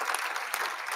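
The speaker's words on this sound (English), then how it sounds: "I think we should just give a round of applause for all of you for surviving that" Audience applause at a pediatrics residency graduation ceremony, dense steady clapping from a crowd filling the whole short moment without pause.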